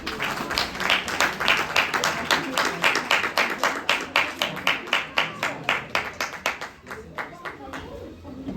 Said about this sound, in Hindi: पास्टर जी के लिए तालियां बजा दें प्लीज